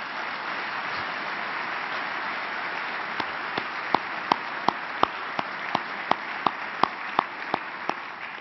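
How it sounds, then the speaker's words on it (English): Sustained applause from a large audience at a state legislative joint session in Ohio, a dense steady wash of clapping lasting throughout, with a few sharper individual claps standing out in the second half. "I also want to make sure we give you a great round of applause"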